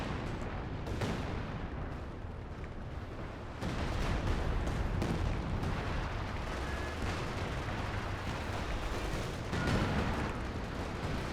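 Heavy booming artillery fire from LeFH howitzers in Company of Heroes 2, a 4v4 battle on Hill 400, with repeated loud blasts and rumbling explosions layered over continuous battlefield noise.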